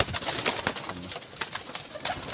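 Pigeons cooing at a pigeon sale, repeated close throaty coos overlapping in a steady rhythm with a faint flutter of wings.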